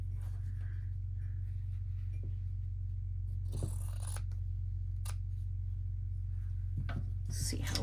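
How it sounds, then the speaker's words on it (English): Scissors cut through junk journal cover material in a few short, crisp snips and scrapes set against a steady low hum, with faint soft speech-like sounds between the cuts. "I am going to go ahead and cut here"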